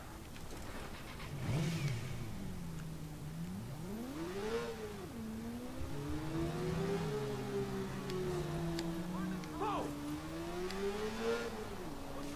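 A motorbike engine in the video game Watch Dogs: Bad Blood revs repeatedly, its pitch sweeping up and down as the bike accelerates and shifts, steady and fairly close throughout.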